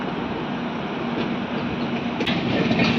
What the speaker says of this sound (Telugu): గుంతకల్ జంక్షన్లోకి ఎంటర్ అవుతుంది భువనేశ్వర్ నుంచి బెంగళూరు వెళ్ళే ప్రశాంతి ఎక్స్ప్రెస్.